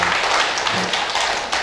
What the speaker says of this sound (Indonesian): Ya, tepuk tangan saya terlebih, tepuk tangan.